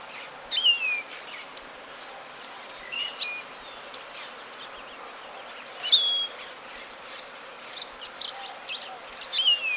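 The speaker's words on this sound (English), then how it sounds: "A lesser goldfinch is whistling mournfully from the sunflowers" A lesser goldfinch whistles from sunflowers in short, thin, descending notes repeated at intervals over a quiet outdoor background, with faint insect buzzing and other small chirps.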